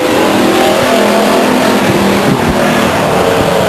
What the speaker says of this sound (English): This battle between Anderson Jr. and Gabor is going to go on for all 8 laps